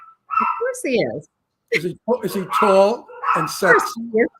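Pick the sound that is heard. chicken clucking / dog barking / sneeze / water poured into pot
dog barking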